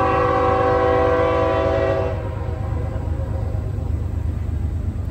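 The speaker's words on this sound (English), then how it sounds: "Here's that train again." A passing train sounds a long, loud horn over a steady, heavy rumble, the horn cutting off after about two seconds while the rolling rumble continues.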